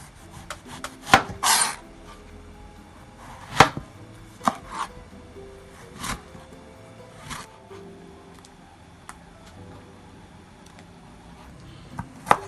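Eggplant for a lentil curry is chopped on a board in a string of sharp, irregular knife strikes, close and distinct against a quiet background, with some softer scraping between cuts.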